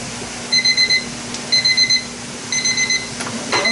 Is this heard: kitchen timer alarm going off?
yes